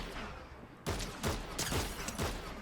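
Gunfire in the Fortnite video game: a quiet lull gives way to a loud burst of several rapid shots, followed by more sharp bursts in an uneven rhythm, close and punchy.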